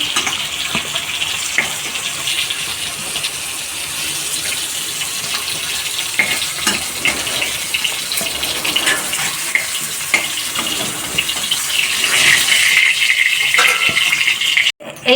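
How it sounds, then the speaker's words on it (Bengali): Pointed gourd (potol) pieces fry in hot oil, giving a steady, close hiss and sizzle that grows a little louder and brighter toward the end, with occasional clinks and no talking. "পটলগুলো পটল এরকম করে ভেজে নেবেন"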